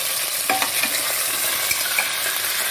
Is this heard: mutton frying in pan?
yes